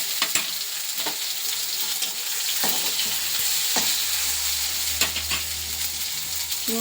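Tomatoes fry and sizzle steadily in a pan, with a few clear scrapes and taps of a spoon as they are stirred, close and alone with no voices.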